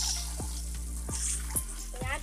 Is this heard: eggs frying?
yes